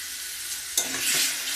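Potatoes and turmeric sauté in a hot pan as a biryani base: a soft hiss swells abruptly into a loud, crackling fry with a scrape of stirring, close by and without talk.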